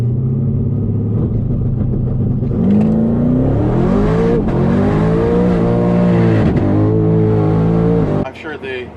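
A boosted car on a track does a burnout, its engine droning low, then climbing through several rising revs with a rough, loud roar up close before abruptly dropping away at the end.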